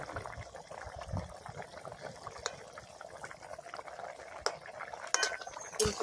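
Water poured into a cooking pot holding potatoes and cauliflower, a faint, continuous splashing trickle with scattered metallic clinks of utensils near the end.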